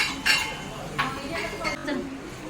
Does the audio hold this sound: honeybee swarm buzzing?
no